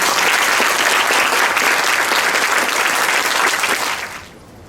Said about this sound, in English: I think we should give a round of applause to these wonderful speakers.